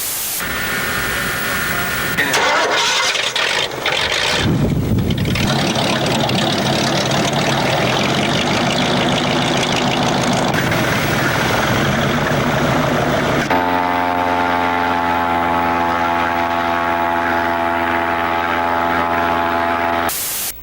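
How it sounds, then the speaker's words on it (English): An airboat's engine and propeller roar at full power on a central Arizona lake, a loud, steady, unbroken drone that shifts in tone partway through, close by and with no talk. "We're gonna go on an airboat adventure."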